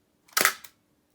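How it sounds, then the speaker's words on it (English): Mirror slap of a Bronica SQ-A medium format camera: one sharp, close mechanical clack with a short rattling tail and a faint second click just after, in a quiet room. "So that slap you hear is not the shutter, it's the mirror."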